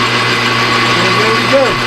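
A metal lathe runs steadily on a piece of drill rod, giving a continuous, fairly loud motor hum and whine with a brief shift in pitch near the end.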